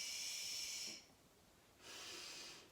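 Two long, steady exhalations during a yoga session, each a soft, close breathy hiss, separated by a brief quiet pause.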